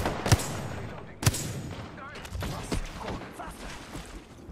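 Gunfire from a shooting video game rings out in two loud, sharp cracks, followed by fainter, scattered shots and rumbling while a player's voice comes and goes.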